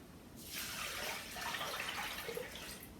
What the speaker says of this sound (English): So then I put in some milk